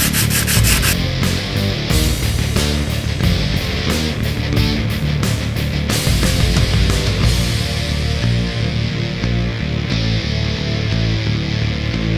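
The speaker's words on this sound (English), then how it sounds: "I'm gonna hit this with probably like a light grit of sandpaper and then steel wool" Rapid, rhythmic scraping of sandpaper rubbing back and forth across a surface, close and loud, continuing steadily with no talking.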